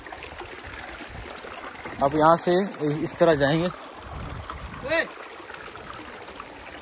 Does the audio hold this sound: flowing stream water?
yes